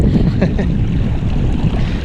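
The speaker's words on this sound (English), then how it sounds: "It's getting windy." Strong wind buffets a nearby microphone, gusty low rumbling that swells and dips over a couple of seconds, no voices.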